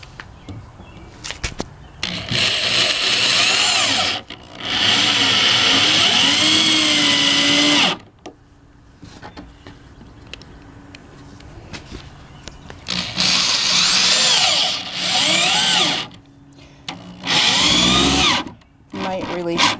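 A power drill drives screws into the timber of a sturdy wooden raised bed, whirring in several long, loud bursts separated by pauses, with people talking in between.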